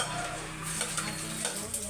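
Cooking oil sizzling in a pan, a continuous close hiss with light crackles and a low steady hum beneath, no voices.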